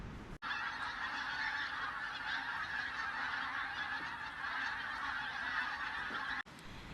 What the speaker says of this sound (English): Pink-footed geese breed mainly in Iceland and then they migrate all the way to us here in Norfolk.